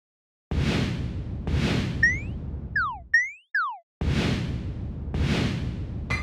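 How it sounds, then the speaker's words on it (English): Player ship destroyed in a Unity 2D space shooter game: loud noisy bursts and whooshes alternate with short descending and rising synth zaps, then more bursts, with no talk. "And player getting destroyed also has a sound."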